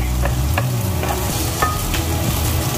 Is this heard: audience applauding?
no